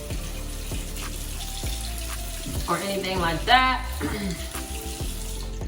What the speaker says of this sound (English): Right now, I'm just rinsing with water.